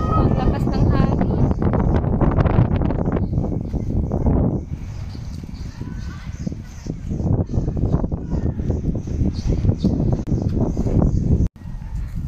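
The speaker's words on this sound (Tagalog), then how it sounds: "Oh, ang lakas ng hangin." Strong wind buffets the microphone on an outdoor farm, a constant heavy rumble with gusts that swell and ease, while a person talks over it for much of the time.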